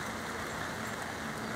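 Steady rain falls at a fishing spot, a dense, even hiss that stays constant throughout and sounds close, with no voices.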